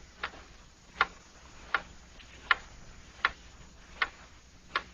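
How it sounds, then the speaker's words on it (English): A clock ticks alone at a steady, even pace, about seven crisp ticks in five seconds, each sharp and fairly close against a quiet background. "Hear that clock?"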